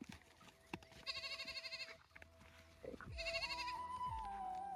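A goat bleating twice in short wavering cries, close and clear, separated by quiet pauses with a faint tonal hum and a few dull knocks in the background.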